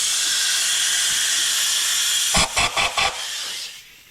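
An aerosol can of brake cleaner sprays in a long, steady, loud hiss close by, then several short spurts in quick succession before the spray stops, with no voices, during an E36 M5 engine head stud job.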